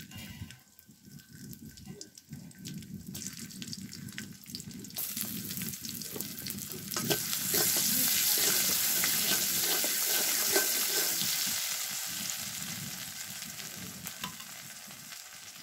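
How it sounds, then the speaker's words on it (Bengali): Garlic and onion fry in oil for a tempering, a bubbling sizzle with stirring scrapes that swells louder and brighter midway, then eases back down; nobody speaks. "তো ওই যে এখানে তেল দিয়ে দিলাম বাগার দেওয়ার জন্য। তারপরে যে রসুন, হালকা একটু পেঁয়াজ দিব।"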